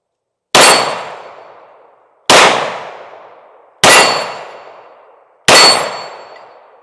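A Sig P365 Fuse pistol fires four sharp, loud shots at steady intervals, each crack followed by a long ringing decay, with no talking between them.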